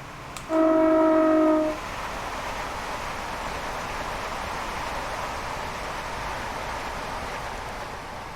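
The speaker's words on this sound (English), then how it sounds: "I'm honking the horn." A loud, steady two-tone train horn blares for about a second near the start in Train Simulator, on a King's Cross to St Neots route, then gives way to a constant rushing rumble of the moving train.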